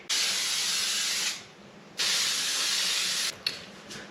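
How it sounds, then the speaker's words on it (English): Hairspray hisses from an aerosol can in two long continuous bursts, then a few short puffs, close and bright against a quiet room. "Now I'm gonna spray it so much so it'll stay for like 8 hours."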